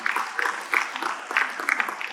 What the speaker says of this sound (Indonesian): Berikan tepuk tangan buat Tuhan.